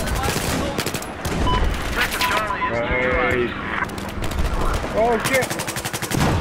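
A suppressed M4 rifle fires in rapid bursts and volleys, loud and close, mixed with other gunfire and an excited voice shouting over it.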